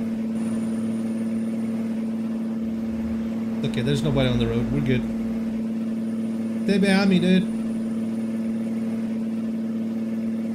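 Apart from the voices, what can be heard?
Peterbilt 359 truck engine from video game American Truck Simulator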